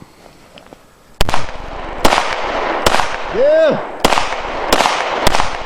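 Sharp gunshots from a Hi-Point .40 handgun at a gun range, five loud cracks spaced about a second apart, with a voice shouting briefly between shots.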